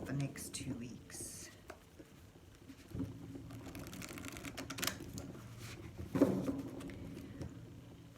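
Northern Animal Tarot cards shuffled by hand, giving a soft, close papery riffling and patter that runs steadily and swells into a brief louder flurry near the end.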